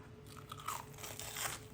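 Close, quiet crunching as a crunchy potato coating is bitten and chewed, a few brittle cracks over about two seconds.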